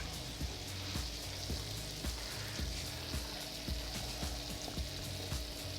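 Salmon fillets with capers and lemon slices sizzle steadily on a Blackstone griddle, a dense continuous hiss broken by regular soft clinks and taps roughly every half second, close and fairly loud.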